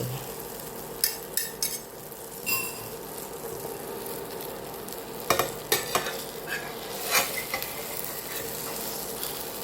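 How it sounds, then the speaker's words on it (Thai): Long beans and egg stir-fry in a pan with a steady low sizzle, punctuated by sharp, irregular clinks and scrapes of a utensil against the pan, close and alone. "น่าจะเป็น ผัดถั่วฝักยาวใส่ไข่ใช่ไหมคะ ผัดถั่วฝักยาวใส่ไข่"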